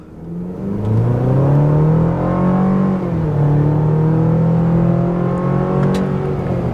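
A turbocharged GMC Canyon AT4X truck accelerates hard at wide open throttle, its engine note loud and close, rising steadily in pitch with a brief dip around a gear change before climbing again, no talking over it.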